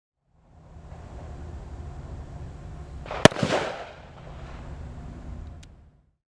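A single sharp gunshot from a Sig Rattler fitted with a blast forwarding device cracks out loud and close, its boom rolling off over wind noise outdoors.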